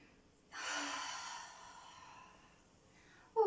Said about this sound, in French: On reprend une grande inspiration ici.